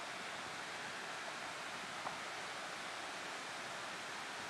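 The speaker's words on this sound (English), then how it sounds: "You can feel the waterfall spraying all the way here." A waterfall roars as a steady broadband wash heard from nearby, constant in level throughout, with a tiny click near the middle and no voices.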